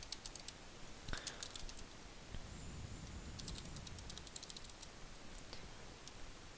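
Rapid computer clicks and key taps, made while picking options on an ordering worksheet, sound as a dense run of small close ticks over steady room hiss, with no talk.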